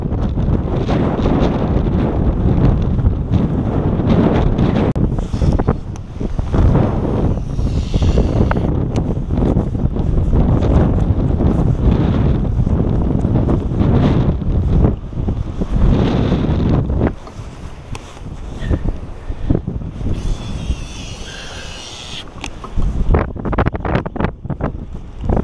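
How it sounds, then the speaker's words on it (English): Strong wind roars across a microphone on an Ontario lake during solo musky fishing from a boat, a loud, constant buffeting rumble that eases briefly near the end before gusting back up. "I'll use the wind to my advantage,"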